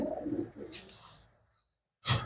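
Pigeons for sale, a short low coo at the start followed by a quieter call, a pause of near silence, then a sudden loud flutter or burst close by.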